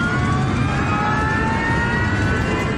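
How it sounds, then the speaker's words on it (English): A DC-10 jet airliner carrying 67 people roars toward the runway on a troubled landing, a loud sustained engine roar with steady whining tones running throughout. "The DC-10 with 67 people aboard roars toward the runway"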